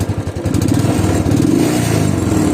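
Royal Enfield Thunderbird 350 motorcycle exhaust thumps loudly and close, starting with a few uneven low pulses and then settling into a steady, rapid, throaty idle beat.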